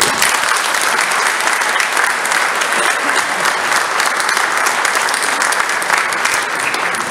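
Steady, dense applause from an audience at a retirement farewell, loud and continuous with no break.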